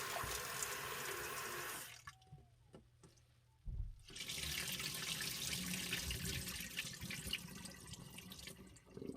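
Peas are washed in a bowl under a running kitchen tap, a loud splashing stream that stops for a moment with a few clanks and drips, then starts running and splashing again.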